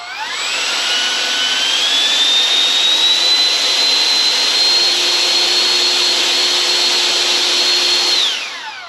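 An RC Harrier jet's electric ducted fan spools up to full throttle with a loud, close, high-pitched whine that climbs then holds steady for several seconds before winding down abruptly; no talking.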